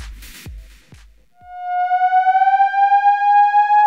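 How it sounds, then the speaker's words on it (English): A Moog Theremini digital theremin sounds after a few soft taps, sliding into a sustained, pure wavering tone with vibrato that slowly rises in pitch, loud and alone. "The Theremini is a theremin with digital control from Moog."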